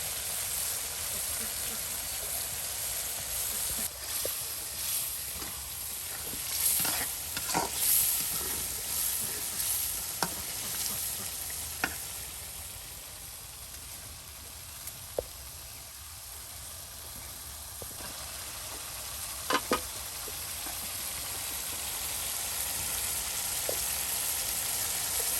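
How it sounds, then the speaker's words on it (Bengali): Shrimp frying in a pan with spices, a steady sizzle and hiss that runs throughout, with occasional sharp clinks of stirring and a soft background hum. "একদম চিংড়ি মাছগুলো মশলার সাথে মিক্সড করে একদম ভালো করে কিন্তু কষানো হচ্ছে"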